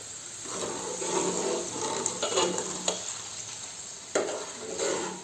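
Asafoetida dropped into hot oil for homemade pickle, giving a steady close sizzle with a few sharper crackles and light stirring scrapes, no voices.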